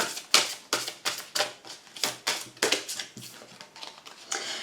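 A tarot deck is handled up close, with a rapid run of crisp riffling and slapping card sounds in a fairly steady rhythm and no speech over it.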